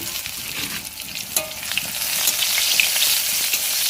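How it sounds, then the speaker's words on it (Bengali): Fish frying in a home kitchen pan after being coated in turmeric, with pointed gourd taken out first; a steady, close sizzle of hot oil with occasional sharp crackles and spatters, no talking. "পটলটা তুলে নিয়ে আর ভেজে নিই মাছটা"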